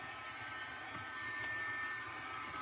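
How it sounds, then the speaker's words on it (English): Heating tool blowing hot air to dry ink on a DIY T-shirt, a steady whooshing blower hiss that runs throughout at moderate loudness, with a couple of faint clicks. "I think this is a heating tool"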